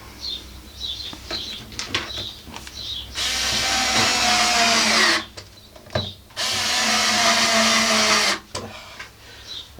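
A power drill drives screws to fix a leg onto a wooden worktop, two long loud whirring bursts close by separated by a short pause, with birds chirping faintly in the quiet gaps.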